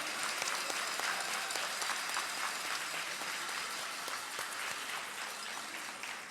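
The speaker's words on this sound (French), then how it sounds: "on peut donner une dernière main d'applaudissement" Audience at a thesis-presentation competition gives sustained applause, a dense crackle of many hands clapping at once that holds steady and slowly eases toward the end, with no speech.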